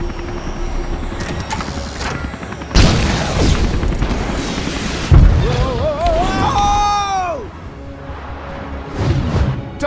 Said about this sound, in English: I'm reading an incoming ship. Watch out! It's about to open fire!